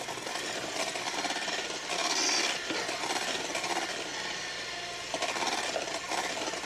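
An electric mixer whirs continuously through orange chiffon cake batter, a close, steady buzzing drone with small rattling variations as the beaters move through the bowl.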